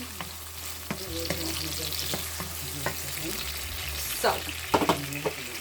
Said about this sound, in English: we're looking into start seeing the onions getting caramelized and soft